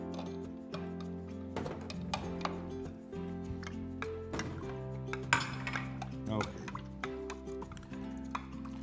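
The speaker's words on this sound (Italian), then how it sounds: "il concentrato lo sciogliamo nel vino. Così lo sciogliamo nel vino. Così si amalgama meglio." Tomato concentrate is stirred into wine in a pan, with a spoon repeatedly clinking and scraping against the metal in an irregular rhythm, close by in a home kitchen with a low hum underneath.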